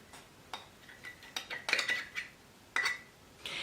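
A utensil scraping out a bowl of sourdough discard granola mixture, with irregular close metallic scrapes and clinks that grow busier midway, then a final longer scrape.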